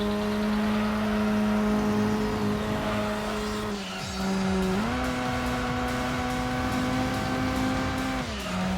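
Car engine sound from the video game Gran Turismo 2, a steady synthetic drone holding pitch, dipping once, then stepping up to a higher sustained tone with faint tire squeal, no talk.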